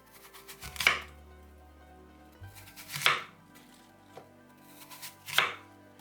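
A knife cuts peeled apples into thick slices on a board, three distinct crisp chops spaced about two seconds apart, close and clear in a quiet kitchen with no talk.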